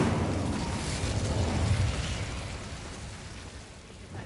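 An Incendio fire spell goes off in a Harry Potter video game, a loud, broad whooshing roar of flame that holds strong for about two seconds and then slowly fades.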